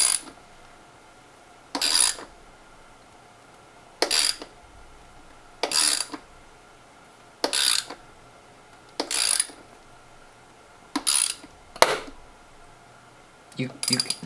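Short ratchet bursts tighten long valve cover bolts on an engine, coming in separate clicks roughly every two seconds with quiet gaps between, close up and with no voice over them.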